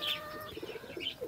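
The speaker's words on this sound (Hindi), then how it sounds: "इधर जो है हमारे कबूतर," Caged pigeons coo in soft, throaty murmurs with a few higher chirps mixed in, close by and steady across the short stretch with no speech over them.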